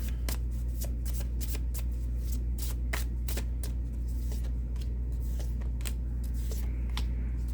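Astrology cards being shuffled by hand in a steady run of crisp, riffling bursts close to the mic, over a constant low hum and with no talk.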